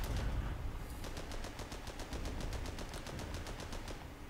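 Rapid automatic gunfire in the World War I tank game Armored Battle Crew, fired at floating mines: a steady, loud stream of evenly spaced shots rattling on for several seconds, with no talking.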